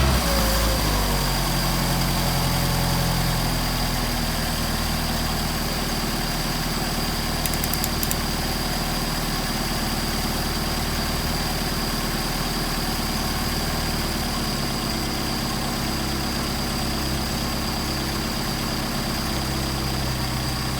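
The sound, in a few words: Mercedes 190SL engine idling with Solex 44PHH carburetors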